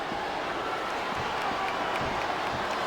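Arena crowd in the wrestling video game WWE 2007, a dense continuous wash of cheering and clapping, steady and fairly loud for the whole stretch, with no distinct voice standing out.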